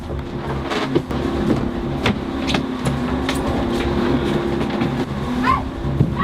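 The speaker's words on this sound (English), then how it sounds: "A small high-speed boat approached rapidly in the darkness." A small high-speed boat approaches in darkness, its engine a steady droning hum with intermittent knocks and clatters, fairly close and continuous.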